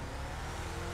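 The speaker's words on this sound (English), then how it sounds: "Kinda sounds like a better version of just the average SUV exhausts" A Canis Terminus (4th gen Jeep Wrangler Rubicon) SUV engine revs in GTA Online with a steady, throaty exhaust drone, loud and close, lasting only a moment.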